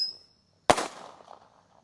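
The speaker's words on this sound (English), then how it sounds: "Nice little salute." A daytime fireworks salute bursts once with a sharp, loud crack, followed by a short rumbling tail of echo that fades over about a second, with a faint whistle-like tone just before it.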